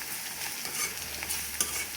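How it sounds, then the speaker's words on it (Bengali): Onion and ground spices, including chili powder, stirred together in a pan for dal bhuna, giving a soft, close sizzle with light scraping from the stirring utensil and no voices. "এবার আমি সব কিছু নেড়ে মিশিয়ে নেব।"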